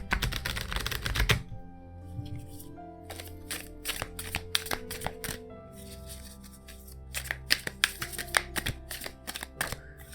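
Tarot cards being shuffled in the hands, a series of quick crisp riffles and flicks in uneven bursts, close and fairly quiet with no talking.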